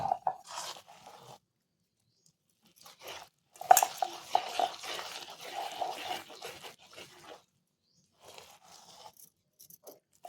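Laddu dough is mixed by hand in a bowl, with soft, intermittent scraping and crunchy squishing in short bursts separated by quiet pauses, close and fairly faint.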